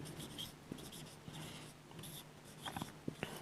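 Faint scratchy writing strokes on a board or paper, soft and close in a quiet room, with short irregular marks and small taps.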